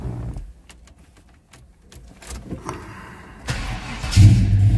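A 1982 Chevrolet C10 Stepside pickup engine cranks with a series of rapid clicks and whirs, then catches and settles into a loud, steady rumbling idle.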